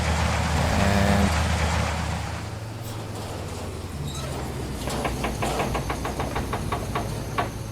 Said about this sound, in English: I really do hope that you could hear me over the engine sound and the thresher unit sound and everything, because it's a very, very loud combine